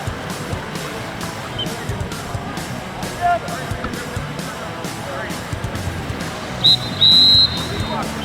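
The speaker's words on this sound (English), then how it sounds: "No, they blow the whistle." Two sharp, shrill referee whistle blasts cut through a noisy indoor basketball crowd near the end of a quarter, the second one longer than the first.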